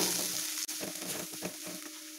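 Chili powder frying in hot oil for a chicken parotta salna, a steady close sizzle with soft scraping stirs breaking through and one brief dropout partway.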